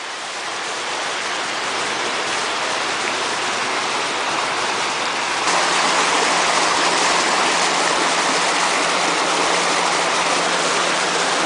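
A broad, steady roar of water rushing through four flume culverts behind an 8 ft AquaDam in Seattle, loud and continuous, swelling slightly louder partway through with no voices.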